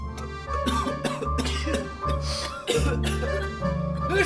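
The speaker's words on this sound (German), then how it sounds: "Es überkommt sie ein starker Hustenreiz." Several harsh coughs burst out at irregular intervals over a steady low drone and scattered tonal background sounds.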